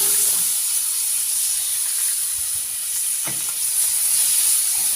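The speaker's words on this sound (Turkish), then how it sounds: "Şimdi suyunu koyabiliriz." Water poured into a hot pan for mıhlama sets off a loud, steady hiss of sizzling steam that holds at an even level throughout.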